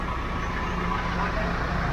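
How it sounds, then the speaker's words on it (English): A bus pulls in at a stop in Phnom Penh, its engine idling in a broad, steady rumble with surrounding traffic noise, close and fairly loud throughout. "I think this might be my bus."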